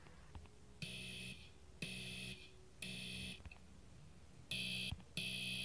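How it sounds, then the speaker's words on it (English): A school fire alarm sounds during a fire drill, blaring in five regular buzzing pulses separated by short gaps, heard from a distance and fairly faint. "The fire alarm is done off."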